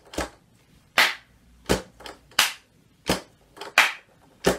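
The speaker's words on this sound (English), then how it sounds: "you've got your clapping and you can tap your knees" Sharp hand claps alternate with knee taps in a slow, evenly spaced rhythm, about eight distinct hits in total, close and clear against a quiet room with no talking.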